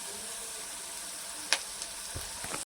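Onion fries in a pan until reddish, giving a steady soft sizzle with a brief stir clatter partway through, close and without talk.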